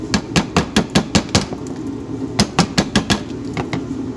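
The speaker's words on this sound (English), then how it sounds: "I was just hammering this up a little bit because it was like way bent down" Hammer blows on a rusted, bent car fender with old Bondo, from a WRX-swapped 2.5RS, strike in quick rhythmic bursts: a run of about eight sharp metallic knocks, a brief pause, then further clusters of close, loud hits.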